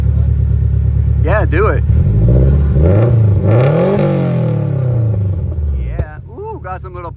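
Spoon Sports-tuned Honda S2000 engine revs hard and loud, rising and falling with crackling exhaust pops, close by, with voices talking briefly over it and at the end.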